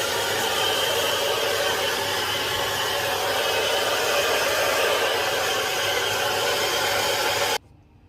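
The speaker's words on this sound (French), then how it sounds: "Bon, sèche-cheveux terminé." A handheld hair dryer blows on hair at home with a loud, constant rushing whoosh for several seconds, then shuts off abruptly near the end, with no talking.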